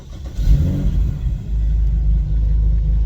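A BMW 1M engine fires up with a loud burst and rev, then settles into a deep, rumbling idle close by.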